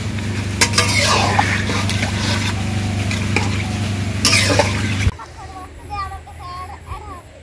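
Water poured into koi fish curry in a village kitchen pan sets off a loud, harsh sizzle with stirring clatter that suddenly cuts to a calmer bubbling, with a voice talking over it.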